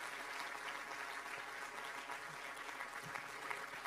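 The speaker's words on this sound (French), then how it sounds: "On peut les applaudir." Steady audience applause at a 2018 New Year's greetings reception, continuous dense clapping filling the whole stretch with no break, a crowd close by.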